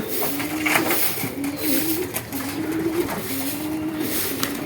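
Domestic pigeons cooing in a loft in the late afternoon, repeated low throaty coos in a steady rhythm, close and clear over a constant background hum.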